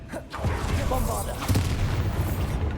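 A booming Bombarda spell explosion goes off in Hogwarts Legacy, a deep blast with rumbling debris, mixed with a voice and game sounds.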